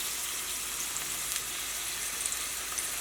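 Chopped garlic, ginger, onion and green chilli sautéing in hot oil, giving a steady, soft hissing sizzle with a few faint crackles, with no voices.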